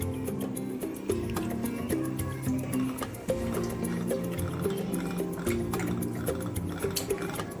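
Cooking oil poured into a lightly preheated pan for a Kerala-style Malabar chicken curry: soft liquid glugs and trickles with small clinks of metal cookware, close and fairly quiet, with no talking.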